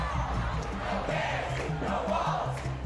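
Thousands of protesters fill an airport with a dense, continuous roar of shouting and chanting voices, steady and fairly distant, no single voice standing out.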